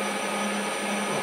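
Steady high-pitched machining chatter from a lathe cutting a nut, a continuous dense metallic whine with a constant tone throughout, loud and close with no voices.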